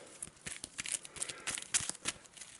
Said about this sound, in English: Give it a quick shuffle.